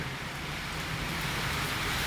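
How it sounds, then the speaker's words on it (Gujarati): Heavy rain pours in a dense, unbroken hiss of drops on surfaces, steady and continuous with no voices over it. "ભૂકા કાઢી નાખે એવો વરસાદ છે"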